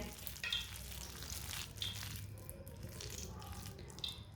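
Pakora batter fries in hot oil with a steady, close sizzle and occasional spoon or stirring clinks, fairly quiet, with no talking.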